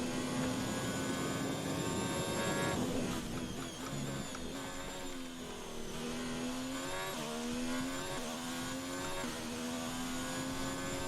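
An F1 race car engine in the F1 2019 game at Bahrain, a high, steady whine that dips and climbs as the throttle comes off and on through turns, loud and continuous with no talking.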